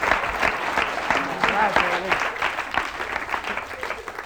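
A television studio audience applauds in a continuous dense burst during a 1982 Italian satirical comedy show, while someone speaks briefly over the clapping.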